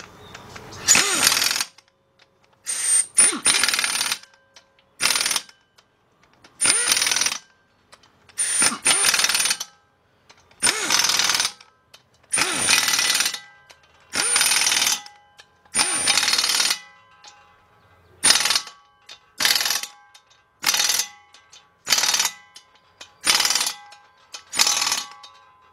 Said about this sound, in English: 1/2" drive shallow socket with about a 1-inch extension. Go in there, tighten those bolts up.